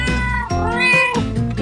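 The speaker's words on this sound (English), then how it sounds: "Cat. Goes like..." A cat meows loudly and close, two drawn-out meows in quick succession.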